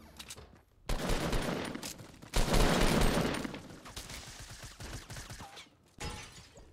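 Rapid bursts of gunfire in the Fortnite battle royale game, loud dense volleys with short gaps between them, alone without talk.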